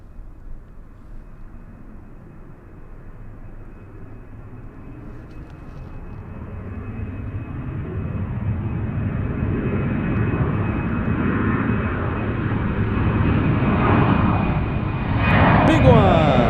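A jet airliner on runway 34 at Zurich airport roars with a steadily building engine rumble that grows louder and nearer, with people talking over it.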